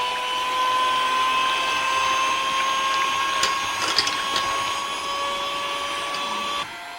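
An electric hand mixer beats eggs for a cake, a steady loud whirring motor drone with a high tonal whine that holds for most of the clip, with brief clattering knocks midway before it cuts off near the end.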